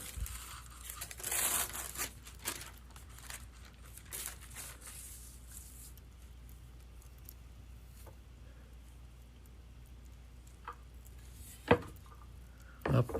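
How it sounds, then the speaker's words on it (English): Wax paper is laid over a veneer panel between press platens, making soft crinkles and rustles early on, then scattered light knocks and handling sounds, with a couple of sharper thumps near the end. "Put the wax paper back on top."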